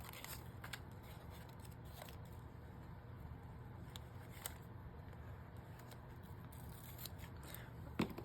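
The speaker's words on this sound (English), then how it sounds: "Let me do a little snippety snip and grab my Debbie snips." Small craft snips cutting paper for journal decorating: faint, sparse snips and clicks spread through a quiet room, with no talking.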